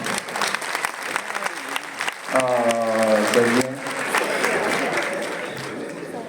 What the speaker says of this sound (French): Quand tu applaudis, toi seul, ça ne passe pas.